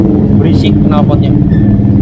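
A loud motorcycle exhaust booms and rumbles inside a road tunnel, a deep, constant drone close by with someone talking over it.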